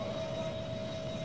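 A propeller plane's engine drones steadily in the Extreme Landings video game, a constant moderate hum with a fixed tone and no voices, lasting just over a second.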